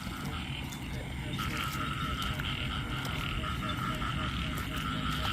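Frogs croak continuously in a dense, noisy chorus, steady and fairly loud, with a background hum of wet outdoor night.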